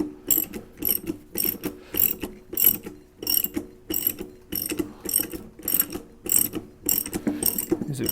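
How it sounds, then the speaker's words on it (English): A ratcheting gear puller is cranked to draw a cast iron bell housing off a vintage repulsion induction motor. It gives a regular series of sharp mechanical clicks, roughly one burst every half second, close and fairly loud with no voices. "I've locked the puller on this, and I'm going to just see if this will work to pull this thing off."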